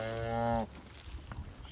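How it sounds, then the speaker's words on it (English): A cow that has just calved lets out one loud, drawn-out moo lasting over half a second, close by, followed by quieter outdoor rustling and faint farmyard background. "listen to the mother mooing away"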